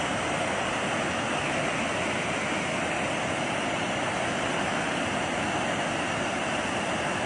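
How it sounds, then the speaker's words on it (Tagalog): Water pours out of the Magat Dam spillway in a loud, steady, unbroken rush that holds at the same level throughout, with no voices over it. "ang bilis ng labas ng tubig lang"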